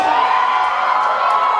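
A live audience at a comedy dating game show cheers and shouts for ninjas, a dense continuous roar of voices held loud and steady.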